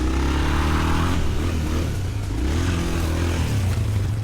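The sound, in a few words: Honda XR400 dirt bike engine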